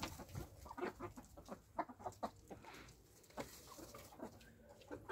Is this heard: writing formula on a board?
no